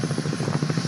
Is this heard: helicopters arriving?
yes